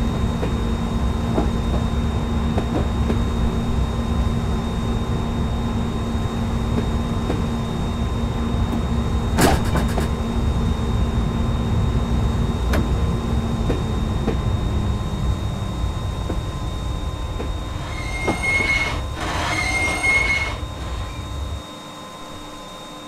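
A London Underground Piccadilly line train in Train Simulator 2019 runs with a steady low rumble and hum, then slows and settles near the end, where a few brief high hisses and clunks sound.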